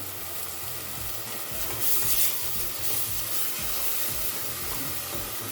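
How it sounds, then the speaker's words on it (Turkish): Onions frying in a pan on the stove for a home-cooked bean and rice dinner: a steady, even sizzle and hiss that continues throughout, with soft stirring scrapes and no voices. "Soğanlar biraz kavruldu."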